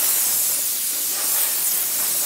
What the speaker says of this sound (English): I have an air compressor, so I can just use that to dust off the car